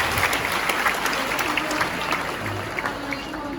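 A university audience applauds at an Islamic lecture hall event, a dense, steady wash of clapping from many hands that fills the room and tapers slightly toward the end.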